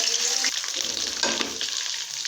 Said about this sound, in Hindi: ये लहसुन अदरक का पेस्ट मैं डाल दूँगी इसमें।